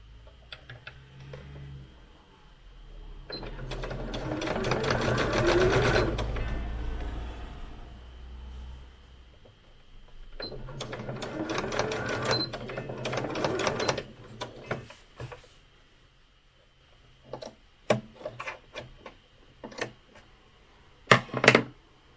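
Sewing machine stitching bias binding onto eighteenth-century stays, running in two long buzzing stretches and then breaking into short stop-start bursts and ticks near the end, close and steady with no voices.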